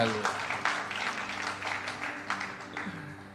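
Church congregation clapping, a mid-level patter of many hands with a few sharper bursts, under a low murmur of voices and a steady background hum.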